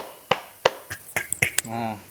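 Three sharp hand claps land in a quick run, part of a classroom call-and-response greeting game, amid other short taps, and a voice speaks at the end.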